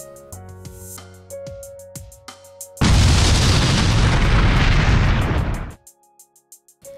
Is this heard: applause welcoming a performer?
no